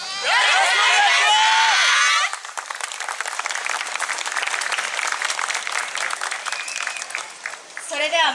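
An audience at a yosakoi dance festival claps along in a steady, close, rapid patter after an opening stretch of amplified talk, with a voice returning at the end.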